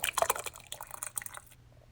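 Cream of corn tipped from a can into a cooking pot for chicken corn soup, a short run of thick wet plops and glugs that trails off into near silence.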